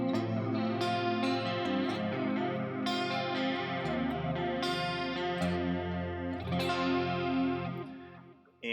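Electric guitar with Floyd Rose bridge and DiMarzio pickups played on a clean Line 6 Helix setting, ringing chords and arpeggiated notes with a shimmering chorus-like modulation, sustained and continuous, no voices.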